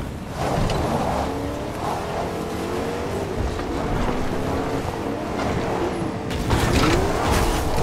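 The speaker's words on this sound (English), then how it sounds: "Oh, another car." A video game car drives past with a rising and falling engine drone and a whooshing rush, steady and fairly loud, with some clatter near the end and no talk.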